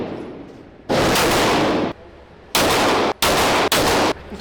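Rifle fire during a crocodile hunt, with long, loud bursts of rapid, continuous shots in three or four sustained volleys separated by brief pauses, close and harsh.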